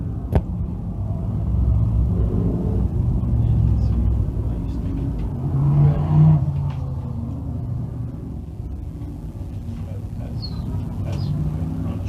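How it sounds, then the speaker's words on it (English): Dirt Car Sportsman race cars rolling around a dirt track, a steady low engine rumble from several cars blending into a continuous drone, with a brief louder swell partway through. "So the Bob Johnson Auto Group Dirt Car Sportsman rolling trackside"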